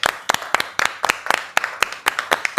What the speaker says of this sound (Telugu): క్లాప్స్ కొట్టాలి